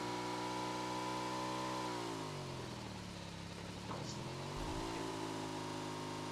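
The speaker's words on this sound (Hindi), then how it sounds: "भैया वहाँ पे पड़ी होती है जय वीरू वाली बाइक, यानी 3 टायर वाली बाइक" Engine of a three-wheeled bike in a video game, a steady mid-pitched drone that rises, dips, then climbs again as the motor revs, continuous and fairly loud with no talking.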